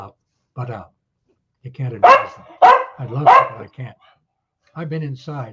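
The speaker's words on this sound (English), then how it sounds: "That's my dog who doesn't agree with a word of words." A dog barks several times, loud and close, in short bursts that overlap and alternate with someone talking indoors.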